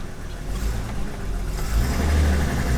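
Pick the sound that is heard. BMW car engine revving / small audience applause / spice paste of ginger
BMW car engine revving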